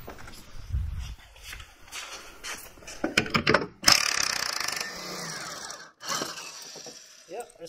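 A ratchet wrench loosening a bolt on a Ski-Doo Gen 4 850 Turbo snowmobile tunnel, giving bursts of quick metallic clicks and clanks with tool handling noises in between, close and intermittent over a short span.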